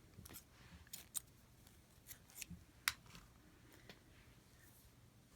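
Scissors snip through knitting yarn to cut the tail from the last stitch of a crescent boomerang shawl, a few quiet close snips and light rubbing against a soft background.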